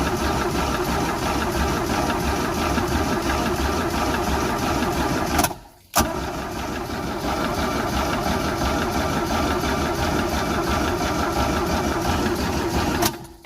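A Mercruiser 3.0 boat engine runs steadily with a constant droning idle, cuts out briefly for a moment, then picks back up and keeps running until it drops off at the very end; no voices.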